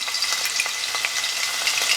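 Crushed garlic, ginger and green chili fry in a pan for mutton keema, crackling in a loud, busy sizzle with rapid spitting pops throughout.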